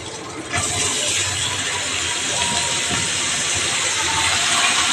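Wet red amaranth greens dropped into a hot pan with prawns and peas set off a sudden loud, steady hiss of steam that keeps going without a break.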